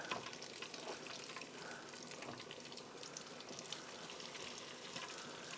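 Hot water cornbread batter deep frying in oil, a steady dense crackling sizzle that holds at an even level throughout with small pops scattered through it.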